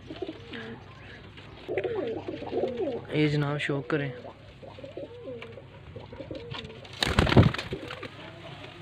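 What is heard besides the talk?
pigeons cooing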